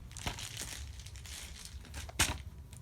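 A mailed DVD package crinkles and rustles as it is handled and opened, with a close, quiet crackle. The crinkling comes in uneven bursts, and one sharper crunch lands near the end. No one speaks.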